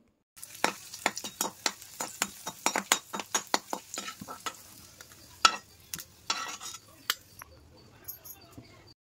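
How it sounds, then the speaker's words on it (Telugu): Cashews and raisins fry lightly in ghee in a pan, heard as a quick series of sharp scraping and stirring clicks over a faint sizzle, slowing toward the end. "2-3 స్పూన్స్ వరకు నెయ్యి కానీ ఆయిల్ కానీ వేసి మనం జీడిపప్పుని కిస్మిస్ని కొంచెం లైట్గా ఫ్రై చేయనిద్దాం"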